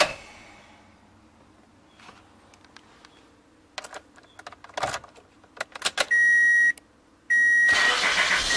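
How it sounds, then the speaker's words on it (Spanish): Car with a click-but-no-start fault being diagnosed: quiet clicks and rattles, then door chime beeps and a loud engine cranking and catching into a steady run near the end. "Pues el auto ya arrancó, era lo que queríamos ver, que el auto arrancara."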